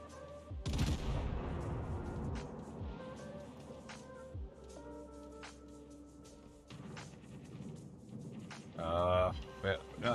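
Gunfire from a naval battle game erupts in a loud burst of shots early on, followed by scattered blasts and a rumbling barrage, with a heavier salvo near the end.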